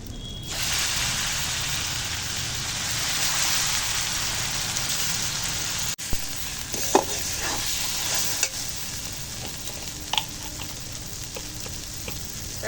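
Ground lentil paste hits hot oil already seasoned with nigella seeds and asafoetida, giving a loud, steady, rain-like sizzle that runs unbroken throughout, with a few light clicks of stirring near the end.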